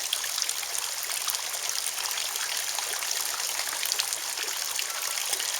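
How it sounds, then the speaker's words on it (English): A pond waterfall running on its low speed setting makes a steady, close splashing and trickling rush of water that continues without pause. "So I do have the 2 speeds for the waterfall, and right now it's on low."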